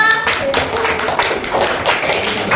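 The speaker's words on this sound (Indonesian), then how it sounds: "Tepuk tangan untuk kelompok 3." Classroom students clap together for a group, a dense, continuous patter of many hands close by, fairly loud and steady across the short span.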